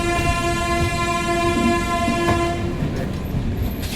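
The 13125 Sairang Express runs between Kishanganj and NJP with a loud, sustained horn blast over the continuous rumble and clatter of the moving coaches, heard from on board.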